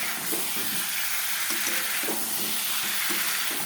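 Food sautéing in a pan with green peas added, a steady sizzle and hiss broken by repeated scraping stirs of a spoon, close and continuous with no talking.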